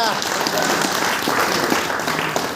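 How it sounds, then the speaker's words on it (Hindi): A church congregation claps along during a Hindi sermon, a dense steady patter of many hands that runs the whole moment, mixed with voices and room noise. "ताली बजाओ"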